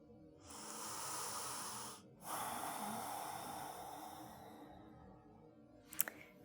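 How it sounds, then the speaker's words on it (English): Slow, steady ujjayi breathing through a contracted throat during a yoga session, a soft hissing breath sustained over several seconds with a brief pause in the middle, heard close and alone without talk. "keep your throat contract as much as possible to hold on to that ujjayi breathing"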